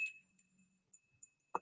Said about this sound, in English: I bought myself a bell.